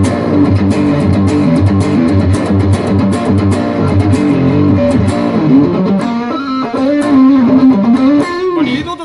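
An electric guitar played through a Boss GT-1 multi-effects unit with heavy reverb and delay: loud, sustained distorted chords and ringing notes that wash and echo into a lingering tail, with no talking.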